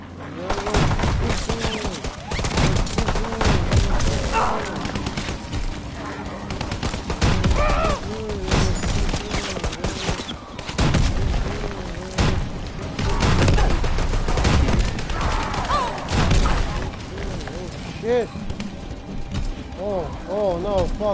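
Gunfire in a PS4 shooter video game: repeated loud bursts and rapid rattling volleys throughout, with a player talking over the shooting.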